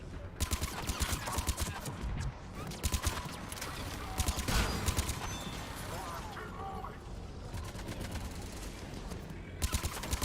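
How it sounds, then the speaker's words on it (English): An automated turret in the video game Mass Effect 3 fires rapid, sustained bursts of gunfire that run almost without a break, with mechanical clatter underneath and a voice talking over it. "he did manage to get up a turret before I could stop him"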